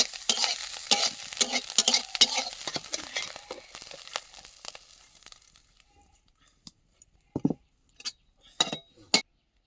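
Prawns sizzle loudly in hot oil as a utensil stirs them around a pan, with dense frying crackle easing off midway and a few sharp metal clinks and scrapes near the end.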